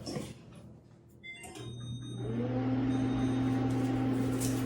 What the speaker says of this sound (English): I'm gonna put something in the microwave and run the microwave